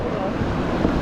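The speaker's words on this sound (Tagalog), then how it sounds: "Malakas ang alon dito." Strong waves slosh and churn around a kayak at sea, a dense, continuous wash mixed with wind buffeting the microphone close by.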